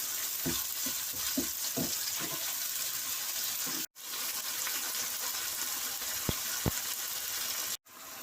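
Fish curry masala bubbling and sizzling in a pan as small splashes of water are added, a steady frying hiss with a few soft stirring knocks, heard alone with no talk.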